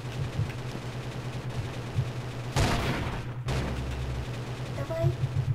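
Airship cannons fire in Roblox Zeppelin Wars: a sharp burst of gunfire crackles over a droning engine hum, with a few softer shots around it.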